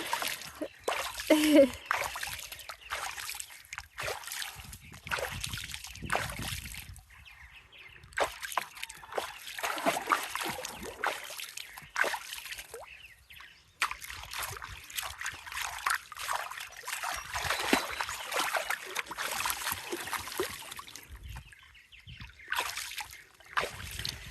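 Chicken splashing and sloshing while bathing in a deep pool of water, with irregular bursts of splatter and trickling throughout, and people talking intermittently over it.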